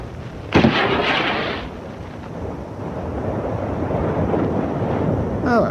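Line-throwing gun fired from a ship's deck toward a tanker at sea, a single sharp blast followed by a long rushing roar of wind and sea noise, loud and close.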